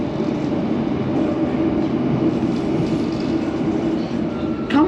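A London Underground Metropolitan line train runs steadily through quiet countryside of forest and open farmland, a continuous loud rumble of wheels and carriage noise with a brief higher squeal near the end.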